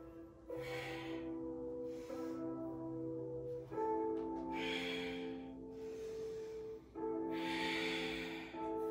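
Long, audible breaths drawn in and let out through the nose and mouth during a yoga flow, each one a soft airy hiss lasting a few seconds, close and steady, with no talking.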